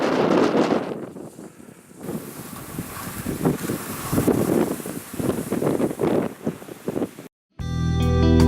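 Strong wind gusts roar against the microphone on a snowy, wind-blown powder day, rising and falling in loud rushing bursts before a brief dropout and a final loud buffeting.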